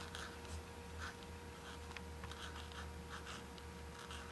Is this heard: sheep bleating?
no